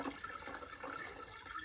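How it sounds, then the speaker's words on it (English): Juice from rehydrated dehydrated elderberries drains through a strainer, making a steady, close splashing pour of liquid that runs unbroken for under two seconds with no voices. "I'm going to drain off all that juice"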